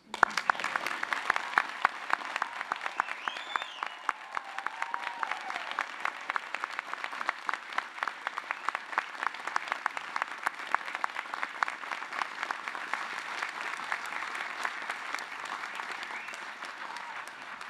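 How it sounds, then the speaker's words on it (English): Enthusiastic applause from the audience at a UTS Faculty of Science graduation ceremony, sustained dense clapping from a large crowd filling the hall for over fifteen seconds, with a few faint whistles or cheers near the start. "My notes here call for enthusiastic applause."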